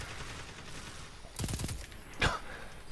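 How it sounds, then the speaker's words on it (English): Gunfire from the Destiny 2 Crucible, fired with the Legend of Acrius shotgun, sounds as a short burst of shots in the middle and a sharper blast near the end, over quiet game ambience with faint breathing. "I just shot at my teammate"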